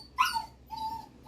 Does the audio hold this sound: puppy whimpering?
yes